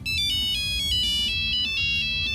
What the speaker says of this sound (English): why does that sound like the bagpipes of ringtones?